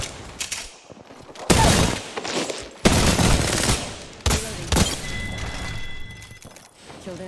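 Heavy gunfire in the video game Apex Legends: loud, dense bursts of automatic shots and booming impacts, several separate volleys close up, with a thin electronic tone trailing near the end.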